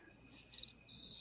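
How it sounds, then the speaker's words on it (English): Crickets chirp in a high, thin trill, played back on demand; the chirping is faint and steady, with a brief louder burst midway through the short stretch. "Now I have crickets too."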